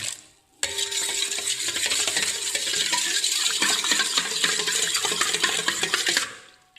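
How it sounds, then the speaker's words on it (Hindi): A soapnut (reetha) herbal shampoo mixture is stirred in a metal pot, with a spoon scraping and clinking continuously against the sides for several seconds, close and fairly loud with a wet, sloshing edge. "देखें ज़रा सा हिलाने से कैसे इसमें झाग आ रही है।"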